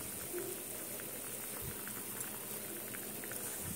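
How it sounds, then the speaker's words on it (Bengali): Chili chicken curry bubbling at a steady boil in a pot after garam masala is added, a continuous close hiss with soft, irregular pops and burbles and no talk over it. "এবারে এটা ফুটে উঠেছে"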